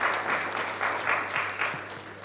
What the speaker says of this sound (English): Let's clap for him for being the first.